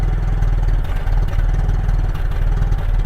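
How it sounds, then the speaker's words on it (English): The engine of a 1963 Land Rover Series 2a idles at a steady tick over, a low, even, rhythmic thrum heard close up with a faint mechanical clatter and no voices over it. "it needs warming up and it settles down to a nice tick over"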